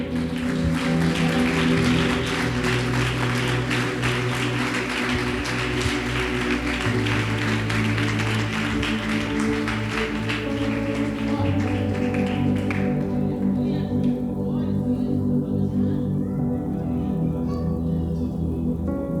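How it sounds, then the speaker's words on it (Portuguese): A church congregation applauds in a dense, steady roar of clapping over sustained background music for about twelve seconds, then the applause drops away and the music carries on alone. "Você pode aplaudir o Senhor."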